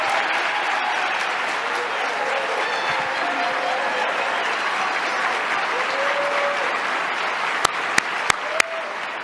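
An audience at a State of the State address applauds in a large hall, producing steady, dense clapping throughout. A few sharp claps or knocks stand out near the end, and faint voices sit under the applause.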